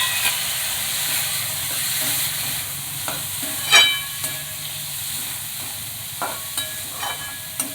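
Teasel gourds sautéing with onion and homemade black masala in a pan give a steady soft sizzle and hiss, with occasional scraping stir clicks and one brief louder clatter midway.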